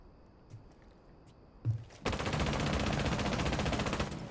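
Rapid automatic gunfire from a rifle with an extended barrel and vertical grip in Rainbow Six Siege on console: a sustained, loud, dense burst that starts suddenly after a couple of faint clicks and continues to the end, with no talking.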